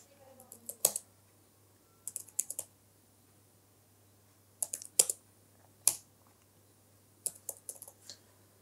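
Keys on a computer keyboard are tapped in short clustered bursts while a card number is entered, quiet and close, with pauses between groups over a faint steady hum.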